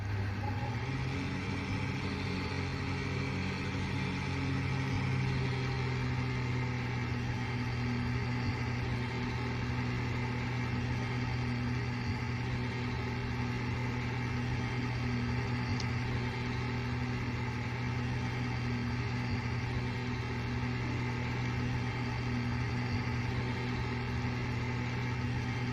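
A loud tractor engine in Farming Simulator 19 drones steadily and heavily for the whole stretch, a constant close rumble with no talking over it.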